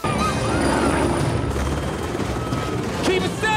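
A helicopter in the Jurassic World Dominion trailer thrums continuously and loudly, mixed with bursts of gunfire, booms and dramatic score.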